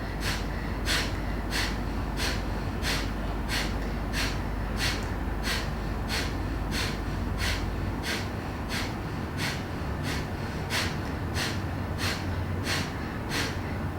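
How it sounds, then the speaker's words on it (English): Kapalabhati fire-clearing pranayama breathing: a steady series of forceful, rhythmic nasal exhalations, about one or two per second, close and loud over a constant background hiss, with no talking. "It's kind of a fire clearing pranayama."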